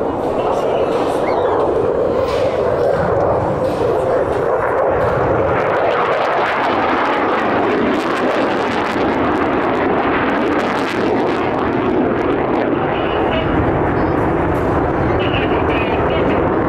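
A Mirage 2000D fighter jet at an air show in Tallard roars with a loud, continuous, rumbling afterburner blast that holds steady throughout and drowns out everything else.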